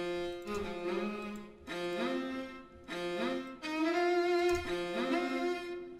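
A dark orchestral synth preset plays a slow chord progression, with four sustained, swelling chords separated by short gaps, moderately loud with no voices.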